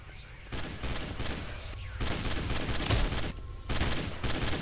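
Rapid bursts of gunfire in the video game Breach, loud and close, in dense volleys broken by brief pauses, with a voice talking over part of the shooting.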